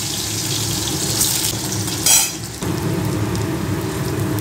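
Thinly cut potatoes frying in a pan for gourd-leaf chorchori, giving a steady, close sizzle with a brief louder hiss in the middle.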